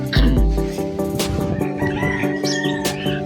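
Chickens and roosters brought to a market for buyers during a storm: loud, close crowing and clucking from several birds overlapping.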